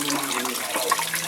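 Water runs steadily from a flexible hose that feeds storage tanks, making a continuous close splashing gush.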